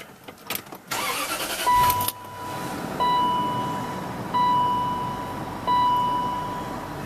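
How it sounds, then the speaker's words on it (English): A 2004 Range Rover being started from inside the cabin: rustling and a brief cranking catch, then a steady mid-pitched idle, with a chime beeping in repeated bursts over the running engine. "And that's the engine."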